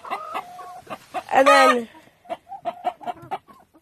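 Black Ayam Cemani chickens at a farm coop cluck in short repeated bursts with one louder squawking call in the middle, close by, while a person talks briefly over them.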